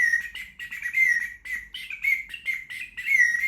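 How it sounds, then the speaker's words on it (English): A bird water whistle, a small ceramic whistle filled with water, warbles in rapid trilling chirps that rise and fall in quick bursts, close and fairly loud, with a slightly scratchy edge and no talking. "It has got the bird sound, I can definitely hear that, but I can also hear like a kind of DJ, kind of scratchy sound."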